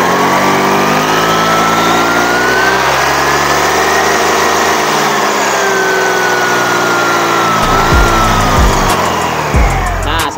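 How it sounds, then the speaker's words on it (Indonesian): A Honda Vario 150 scooter engine is revved hard close by, a loud steady drone whose pitch rises and falls, then a few sharp bursts near the end, with no voices. "Coba kita hidupin, kita gas ya, sampai di mana panbelnya naiknya, yang bagian depan."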